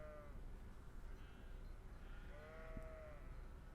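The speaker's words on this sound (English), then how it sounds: "Sound of sheep, other animals." Sheep bleat in the Trails of Cold Steel video game, in a Nord Highlands farm setting: two drawn-out wavering bleats, the second longer and clearer, over a dense low ambient rumble.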